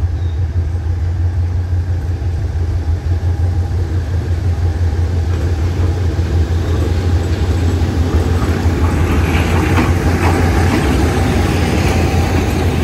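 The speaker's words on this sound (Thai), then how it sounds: "หลังขบวนเข้าสู่สถานีสุราษฎร์ธานีในทางที่2นะครับ แต่วันนี้ขบวน 490นะครับใช้เป็นรถจาก GK หมายเลข 4036ทำขบวนครับผม" Express train 490, hauled by a GK locomotive numbered 4036, rolls into Surat Thani station with a steady, loud low engine rumble and continuous rail noise that carries throughout without a break.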